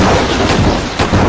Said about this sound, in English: Lightning strike of the gods!